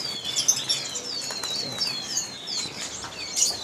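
Lovebirds and other caged birds at Pramuka bird market in Jakarta, giving a dense stream of high chirps and tweets, with some fluttering wing sounds, steady and fairly close, with no voices.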